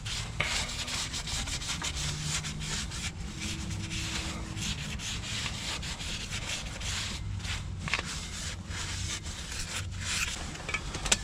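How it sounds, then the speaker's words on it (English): A cloth is rubbed briskly over the flywheel of a 2012 VW Crafter 2.0 TDI, a close, continuous scrubbing and swishing with an uneven back-and-forth rhythm and no speech. "Now degrease the flywheel."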